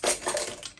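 Keys dropped into a small pink Goyard Saïgon Souple Mini handbag give a quick, faint metallic jingle and clink that lasts under a second, with no voice over it.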